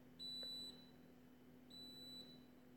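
An electronic device gives two long, high, electronic beeps about a second and a half apart, fairly faint over a low steady hum, with no talking.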